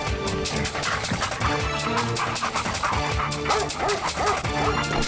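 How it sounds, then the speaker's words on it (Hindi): A dog chases a man hauling water in an animated Hindi comedy story, barking and yipping repeatedly in quick, loud bursts with whimpering yelps mixed in. "अगले दिन जब गेंदा सेठ पानी भरकर वापस आ रहा था, तब उसके पीछे एक कुत्ता पड़ गया।"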